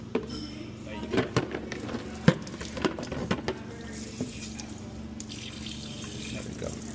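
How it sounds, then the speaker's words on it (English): Water runs from faucets opened during a plumbing leak check, a steady wash of flow with clatters and knocks as a person moves about nearby. "I'll open some of those faucets down there"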